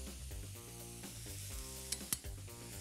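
Garlic sizzles and fries steadily in a pan on the stove, a continuous close crackle with a few sharper spikes near the end, while potatoes gratin with stout is being prepared.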